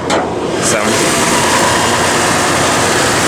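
Toyota 4.0-liter V6 engine running at a cold startup, a loud, steady, rough mechanical drone held close throughout.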